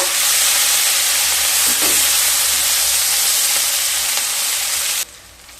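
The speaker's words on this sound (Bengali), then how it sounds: "পেঁয়াজগুলোকে হালকা ভেজে নেব" Sliced onions frying lightly in hot oil for a soybean do pyaza, giving a steady, loud, dense sizzle that runs almost unbroken, then drops sharply near the end as the heat or stirring eases.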